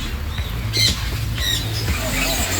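Birds squawk in short, shrill bursts at a bird park, a few sharp calls spaced out over steady outdoor background noise.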